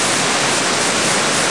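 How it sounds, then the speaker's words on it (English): A waterfall at Coac Falls pours over a cliff top onto a rock face, a dense, steady roar of rushing water, loud and close, with no voices. "There's the waterfall, there it comes over the top."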